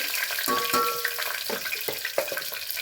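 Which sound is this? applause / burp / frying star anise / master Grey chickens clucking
frying star anise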